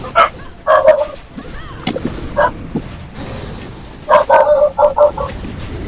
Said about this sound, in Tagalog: Pasensya na sa mga aso.